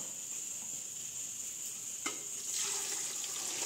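Hot rendered fat from frying pork rinds pours and trickles into a small can, a steady liquid pour with a faint sizzle, a brief clink near the middle, and a fuller stream toward the end, heard close with no talk.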